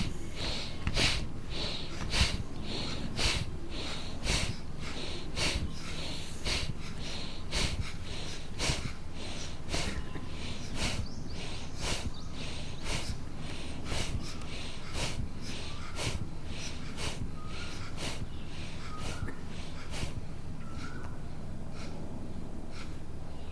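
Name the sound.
deep breathing during pranayama yoga exercise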